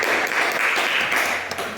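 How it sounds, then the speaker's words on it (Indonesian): An audience applauds a presenting group in a classroom, a brief dense wash of clapping hands, close and steady throughout with no talking. "Kita beri aplaus untuk kelompok 4"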